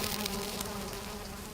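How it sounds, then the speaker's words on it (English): Bees swarming around beehives in a video game, a dense, continuous buzzing drone that stays loud and close throughout, steady with no pauses and no voices. "hey, no, bees don't like fire."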